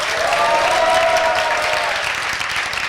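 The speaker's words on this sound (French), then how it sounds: "Acclamation également pour vous ce matin." Audience applause at a morning broadcast event greets a youth movement group, a steady wash of many hands clapping close and loud throughout, with no voices over it.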